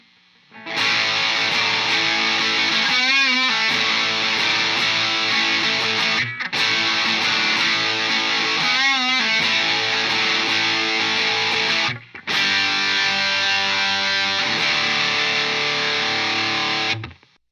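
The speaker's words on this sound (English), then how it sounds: "Prime Distortion. MXR Prime Distortion." Dense, saturated electric guitar through an MXR Prime Distortion pedal, played in three long sustained passages separated by brief breaks, loud and continuous, no voices.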